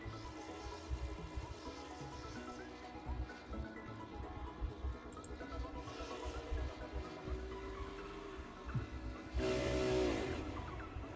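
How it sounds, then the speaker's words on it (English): Race cars doing burnouts nose to nose at a short track, heard as a faint, rumbling engine roar with revving surges and a louder burst of tire noise near the end, no talk. "Nose to nose doing burnouts with Cody."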